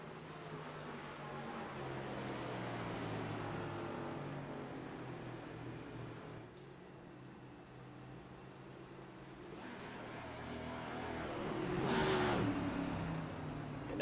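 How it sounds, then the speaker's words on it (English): A race car doing a burnout on the front straightaway at Gateway in iRacing: a steady engine drone and tire roar that dips midway, then swells again with a brief harsh screech, heard at a moderate distance and without voices. "now we're going to get to watch Nate Lesko burn it down on the front straightaway here"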